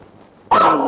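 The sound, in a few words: dog barking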